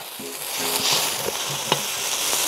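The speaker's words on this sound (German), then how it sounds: "Das Ganze lasse ich jetzt noch 2 Minuten vor sich richtig anbraten." Tomato sauce sizzling and bubbling in a hot wok, with occasional scraping stirs and a small clink, no talking.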